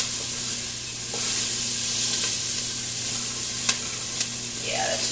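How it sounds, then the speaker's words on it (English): Steady broadband sizzling from chili ingredients frying in a hot pot, with a few brief clinks of stirring and a faint hiss of steam, no voices. "we're just going to keep stirring until it stops sizzling quite as much"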